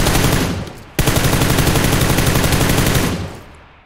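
Rapid automatic gunfire in the PUBG Lite video game, a loud burst of closely spaced shots that cuts in after a brief pause and runs for about two seconds before fading out.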